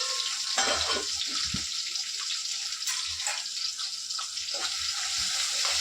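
Water pours into a hot pan of onion, tomato and peas with a steady rushing hiss, broken by a few low knocks and bumps.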